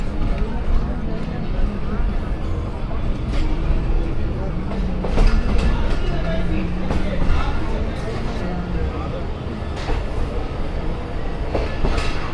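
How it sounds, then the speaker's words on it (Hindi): Awam Express passenger train running after pulling out of Gujar Khan station in Pakistan, with a continuous loud rumble and rhythmic clickety-clack of wheels on rails, while people talk over it. "हमारी ट्रेन का डिपार्चर हो गया है गुजर खान रेलवे स्टेशन से।"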